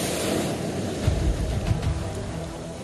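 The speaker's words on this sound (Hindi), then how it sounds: "करीब 8 फुट ऊंचे घेरे को पार कर लहरें किनारों पर बुरी तरह चोट कर रही हैं" Rough sea waves from Cyclone Amphan pound the shore at Digha, West Bengal, in a loud, continuous roar of surf mixed with wind noise and a few heavier surges.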